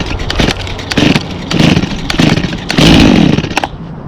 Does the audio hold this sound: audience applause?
no